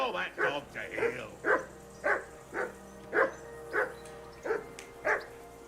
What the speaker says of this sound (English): What's that dog barking at?